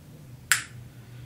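One crisp finger snap, close and sharp, standing alone against a quiet room hum.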